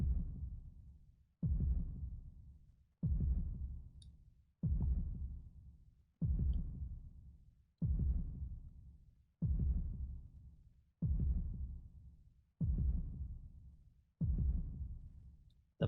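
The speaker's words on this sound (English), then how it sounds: "The powerful heartbeat." A powerful, deep heartbeat from the Legend of Dragoon video game thuds ten times at a slow, even pace. Each low booming pulse decays before the next, and nothing else is heard.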